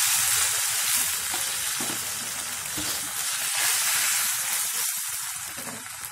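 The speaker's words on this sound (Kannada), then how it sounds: "ಆದಷ್ಟು ಸ್ವಲ್ಪ ಸಿಮ್ನಲ್ಲೇ ಫ್ರೈ ಮಾಡ್ಕೋಬೇಕು" Bread omelette frying in oil in a pan on a low flame, giving a steady, dense sizzle with a faint crackle and occasional soft stirring scrapes, close and continuous.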